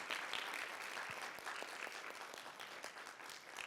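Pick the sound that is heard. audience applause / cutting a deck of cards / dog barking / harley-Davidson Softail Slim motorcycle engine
audience applause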